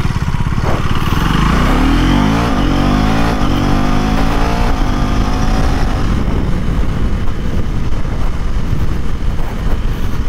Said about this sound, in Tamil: ஸோ செம்ம டிராஃபிக் வராங்க